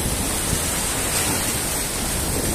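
Sea waves wash onto the beach at Praia Grande, Canto do Forte, on the São Paulo coast, a loud, steady roaring hiss of surf that fills the whole stretch without a break.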